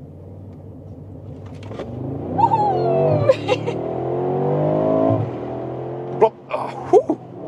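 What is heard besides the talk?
Mercedes-Benz G63 engine during race start acceleration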